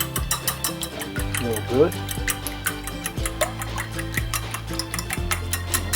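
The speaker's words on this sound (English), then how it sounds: "we're going to take it and we're going to whisk everything up" Eggs with Cajun seasoning, meant for crawfish scrambled eggs, whisked in a bowl with fast, rhythmic metallic clicking and tapping, close and steady, while a voice talks briefly over it.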